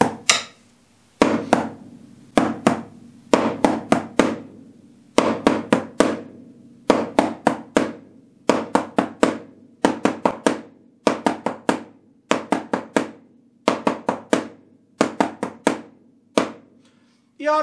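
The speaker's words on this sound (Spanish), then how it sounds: "la mano derecha da un golpe y la mano izquierda va a hacer dos golpes" Drumsticks strike in a repeating triplet pattern, one right-hand stroke followed by two bounced left-hand strokes. The sharp, close clicks come in steady groups separated by short gaps, with no talk.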